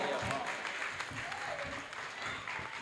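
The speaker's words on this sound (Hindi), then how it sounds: "ताली जरा जोर से बजाओ" Audience clapping at a Hindi kavi sammelan poetry recital, dense and steady throughout, with a voice speaking over the applause.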